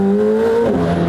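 A straight-piped McLaren Senna hypercar engine revs hard and close, a loud raspy tone that climbs then dips in pitch through a quick shift over a single second.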